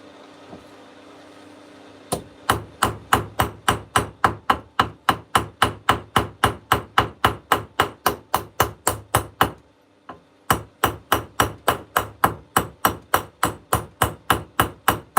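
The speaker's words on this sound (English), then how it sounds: "You're pretty much just letting the ball peen do the work." A ball peen hammer strikes a metal coffee scoop in rapid, even blows, producing sharp ringing taps in a long steady series that pauses briefly before resuming at the same pace.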